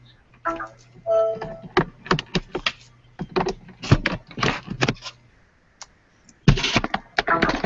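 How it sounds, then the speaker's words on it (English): Bursts of rapid computer keyboard typing from a participant in an online video call, clattering close by in uneven clusters with short pauses, then a final flurry of keystrokes. "Someone's typing away because I can hear that."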